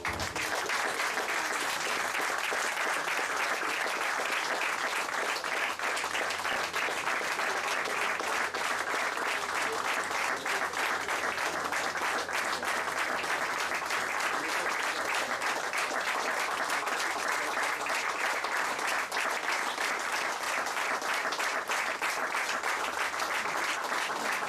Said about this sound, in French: Et on va faire une minute d'applaudissement